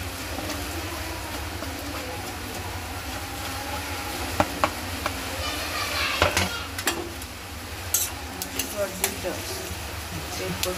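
Onions drop into hot oil in a wok, giving a soft, steady sizzle with scattered sharp clicks and spatters growing busier toward the end, while a voice talks intermittently in the background.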